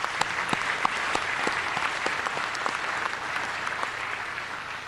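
At an afternoon awards ceremony, a large audience gives a sustained round of applause for the award winners, a dense, even roar of clapping with a few sharper claps standing out near the front.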